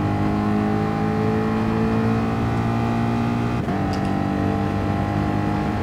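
A GTR race car engine in the GT Sport video game, racing at Monza, holds a steady, loud, high-revving drone throughout, with a brief shift-like dip midway and no talk.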